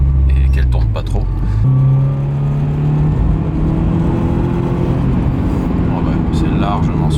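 A Subaru Impreza cruises in fifth gear at about 70 on a snowy road, its engine giving a steady loud hum and tyre rumble inside the cabin while someone talks over it.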